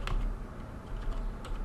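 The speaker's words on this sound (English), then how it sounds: "and then we type the network address" Keys clatter on a computer keyboard as a network address is typed, quick irregular taps close by with no voice over them.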